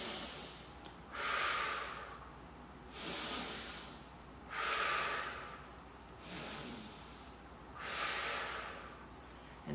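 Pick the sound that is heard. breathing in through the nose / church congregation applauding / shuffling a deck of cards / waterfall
breathing in through the nose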